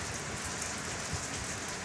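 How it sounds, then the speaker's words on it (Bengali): Heavy rain pouring outside at night, a dense, even, loud hiss of drops drumming on surfaces with no pauses and no voices. "বাইরে প্রচণ্ড বৃষ্টি হচ্ছে"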